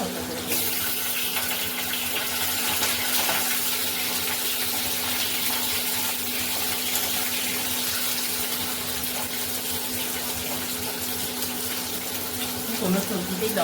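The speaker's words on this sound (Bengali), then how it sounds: "ডাঁটা বেশি ভাজবো না, ছোট করে দেবো।" Vegetable stalks fry in a hot wok with a continuous, even sizzle. The hiss stays close and loud throughout, with a steady hum underneath and a faint voice at moments.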